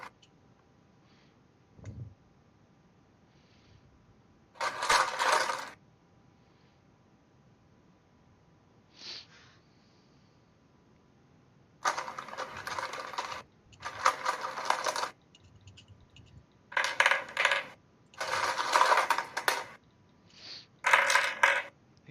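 Dice are pulled out of a box in several separate bursts of rattling and clicking, close and crisp, with quiet gaps between them and no talk.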